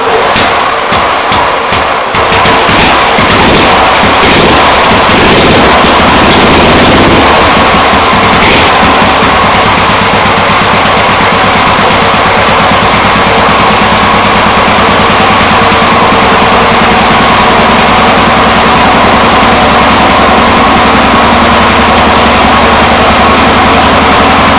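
Racing lawn mower engine starting with a few rough pulls and then running loudly and steadily, a dense close roar that fills the whole stretch without letting up.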